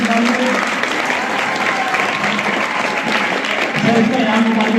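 Loud, steady applause from an audience at a school prize distribution ceremony, continuous clapping throughout with some voices faintly underneath.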